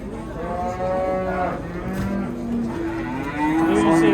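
Cattle at the Karakol livestock market in Kyrgyzstan, bellowing in long, drawn-out moos that overlap one another, loud and close against a constant murmur of the crowded market.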